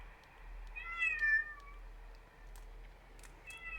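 A pregnant cat meows once in a drawn-out, wavering cry at moderate distance, with faint, shorter vocal sounds afterward over a low steady hum.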